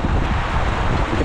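A powerful whirlwind buffets a street food cart with loud, roaring gusts that batter the microphone and hold steady throughout, with no voices.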